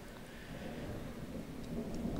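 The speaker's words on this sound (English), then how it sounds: "Wow, that is a storm outside." Thunder rumbles during a storm outside, a low, steady roll with rain-like hiss on top, muffled and continuous across the moment without speech.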